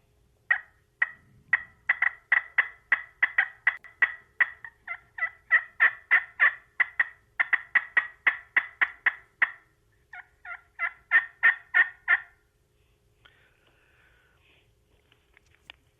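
A turkey hunting call imitates an excited hen with a long run of rapid, loud, close yelps and clucks. The sequence pauses briefly, then ends in another quick flurry.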